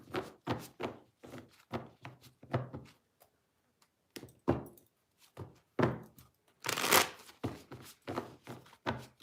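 Tarot cards being shuffled and handled before a reading, heard as a string of soft, close taps and thumps in uneven rhythm, with a brief riffling burst near the end and quiet gaps between.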